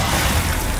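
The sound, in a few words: Glacius ice spell in Hogwarts Legacy video game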